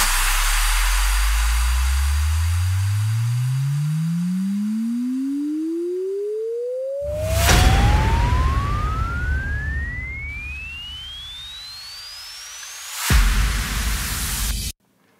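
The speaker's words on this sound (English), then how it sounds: "Some more risers or uplifters." A music-production riser or uplifter for a track: a clean tone sweeps steadily upward from deep bass to a high pitch over about thirteen seconds, with two loud noisy crash-like bursts landing midway and near the end, no voices.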